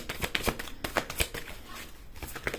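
Tarot cards being handled and shuffled to draw a final card, with crisp, quick papery flicks and slaps in an irregular rhythm, close and fairly quiet.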